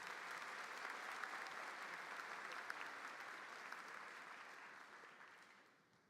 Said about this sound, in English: Let's have a round of applause for all our county award winners.